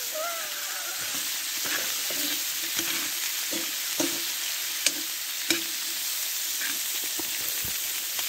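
Vegetables sizzle steadily in a pan on a woodburning stove inside a hot tent, a continuous close crackle with occasional soft clicks and scrapes of stirring.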